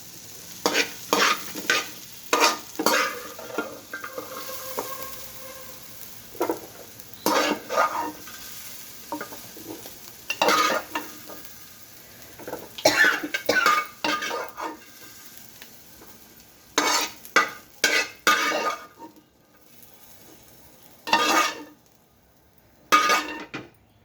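Guava for chutney frying in hot oil in a pan, stirred in repeated bursts of scraping and clinking against the sizzle, with short pauses between strokes.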